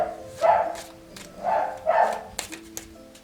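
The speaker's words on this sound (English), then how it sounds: "I have a wiener dog" A wiener dog (dachshund) indoors gives about three short, sharp barks spaced unevenly, moderately close but fairly soft, with quiet gaps between them.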